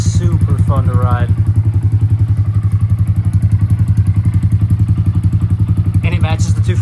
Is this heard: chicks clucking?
no